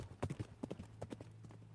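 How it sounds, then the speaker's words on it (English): A horse's hooves clip-clop on a hard floor in an old hall as it is ridden up the stairs; an uneven run of close, clear strikes, loud and alone. "Simon Cunliffe on his horse, which rode into the hall and up the stairs."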